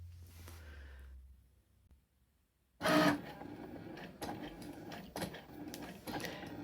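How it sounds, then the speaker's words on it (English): A Cricut cutting machine starts drawing a design with a pen, giving a steady mechanical whir with repeated clicks and carriage shifts. A brief low hum and a near-silent pause come before it, and the motor noise stays close and moderately loud. "Cricut will start drawing the design for us."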